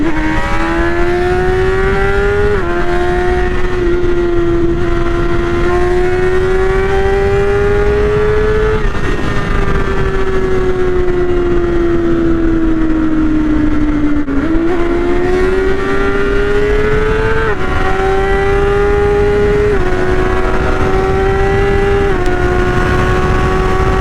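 A BMW S1000RR motorcycle among other sport bikes on a Dallas freeway drones loudly and continuously, engine pitch climbing through gears with brief dips at shifts, a close, sustained high-revving howl over wind noise.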